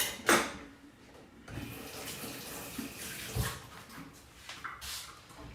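Dishes being washed in a kitchen sink full of dirty water: steady sloshing and splashing with a sharp burst of water noise near the start and scattered clinks and swishes after, fairly close, with no talking.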